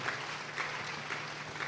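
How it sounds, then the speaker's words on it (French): Church congregation applauding during a service, steady dense clapping from a crowd in a hall, moderately loud and continuous throughout. "Acclamons très fort pour le roi de roi."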